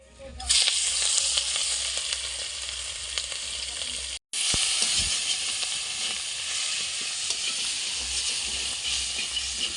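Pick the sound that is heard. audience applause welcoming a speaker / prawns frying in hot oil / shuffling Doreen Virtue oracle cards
prawns frying in hot oil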